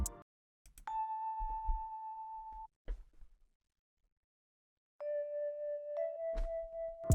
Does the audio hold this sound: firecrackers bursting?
no